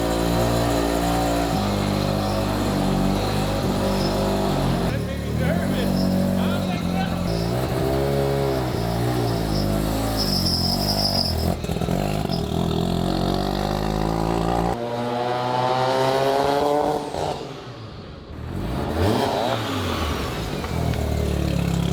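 Rebuilt four-rotor rotary engine car running with its exhaust, a loud, buzzy engine note that rises and falls through revs, close and continuous, with a brief dip near the end.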